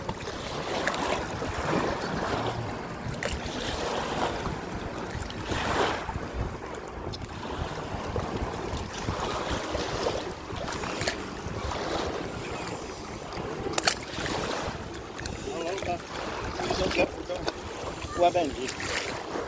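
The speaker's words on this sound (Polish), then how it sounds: "Teraz jakie fale." Waves lapping against an inflatable pontoon boat on a lake among swans, heard as a steady wash of water and wind buffeting the microphone, with people talking nearby throughout.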